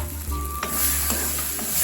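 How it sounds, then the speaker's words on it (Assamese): Ground masala paste for paneer butter masala sizzles and crackles steadily in a hot pan, with a few light stirring scrapes. "এইখিনি এতিয়া অলপ দেৰি আমি ফ্ৰাই কৰি ল'ম।"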